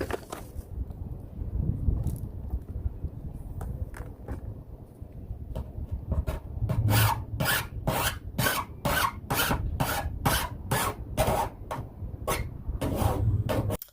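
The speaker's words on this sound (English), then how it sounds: "I'm filing down all of the edges to deburr and make sure there's nothing sharp" A metal file rasps along the cut metal edges of a van roof fan opening to deburr them, first in slow, quieter strokes and then in a fast run of loud, regular strokes heard close up.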